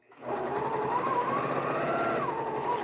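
A sewing machine chain-pieces 3-inch quilting squares along a diagonal line, running in a steady fast mechanical whir that starts up and then holds an even pace, close and alone with no talking.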